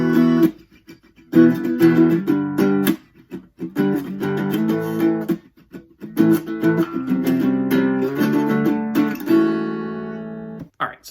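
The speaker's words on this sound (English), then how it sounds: "So all together, the guitar part for the intro would sound like this." Acoustic guitar playing the full intro part of a song in the live looping version, two passages of percussive, rhythmic strumming with brief pauses, ending on a sustained ringing chord, close with no voices.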